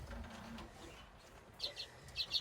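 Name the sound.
Lesser Redpolls in a breeding cage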